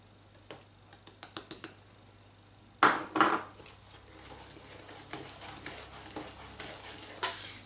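Brownie cheesecake batter being mixed in a bowl after baking powder is added, with a quick run of clicking taps, then louder scraping strokes and softer, irregular stirring, close and with no talk.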